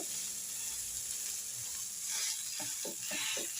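A dosa roasting on a hot pan gives a steady, even sizzle for the whole stretch, with a few soft scraping strokes near the end.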